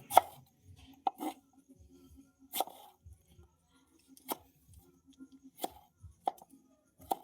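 Tomatoes being chopped with a knife on a board. There are about eight sharp, separate cuts spaced irregularly over several seconds, close by and with quiet gaps between them.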